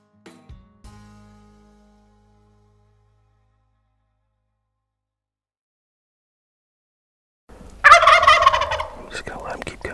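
Wild turkey gobbling outdoors during spring turkey season, a loud, close, rattling gobble breaking out near the end after a faint knock and long quiet.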